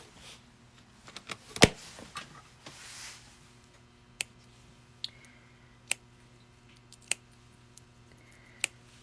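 Small scissors snip cork wedges several times in a quiet room: a loud rustle and clicks early, then five or six crisp, evenly spaced cuts.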